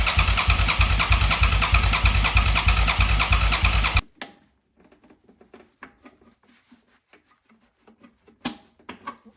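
A Suzuki SV650 motorcycle engine, fired up after troubleshooting, runs loud and rough for about four seconds and then cuts out abruptly. Faint knocks and rustles follow, and one more sharp bang comes near the end.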